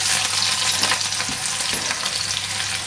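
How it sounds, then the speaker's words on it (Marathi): Chopped spring onion (the green-onion bulb) dropped into hot oil in a wok for a tomato chicken gravy, giving a loud, steady sizzle and crackle with occasional stirring scrapes, close by and continuous, with no talking. "आता आपण याच्यामध्ये कांदा घालूया"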